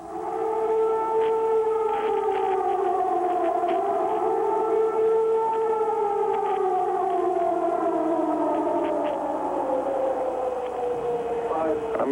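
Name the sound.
air raid siren sounding over Baghdad at night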